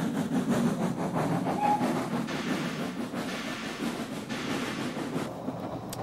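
Train rolling along the rails, a steady mid-level rumble with faint rhythmic clatter and hiss, fairly close and unbroken for a few seconds.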